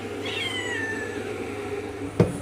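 A house cat wanting food gives a single drawn-out meow, followed by a brief knock near the end, with low background hum.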